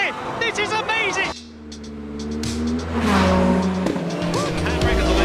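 Ferrari Formula 1 car in a racing game at Silverstone, engine roaring as tires squeal in a long handbrake skid, with an excited voice talking over it.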